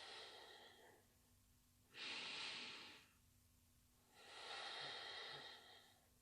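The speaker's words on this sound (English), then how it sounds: "And we breathe here." Slow, audible breaths during a yoga pose: two long, soft exhales about two seconds apart, close and quiet, with no talking.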